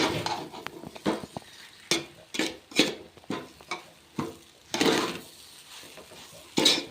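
A spoon stirs a puffed rice mixture with lemon juice in a wide bowl. Each stir gives a rhythmic scrape and rustle, with about eight close strokes spaced out evenly.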